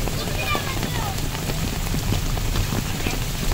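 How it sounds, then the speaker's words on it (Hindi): Heavy stormy rain pours down in a steady, loud, dense patter of drops striking surfaces, unbroken from start to finish, with a voice talking faintly beneath it. "ये एक सिर्फ बारिश का नज़ारा"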